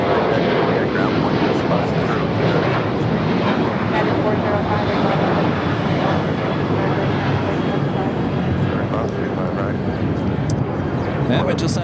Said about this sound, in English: And we just had a Delta 767 at 300 yard touching down here on the south side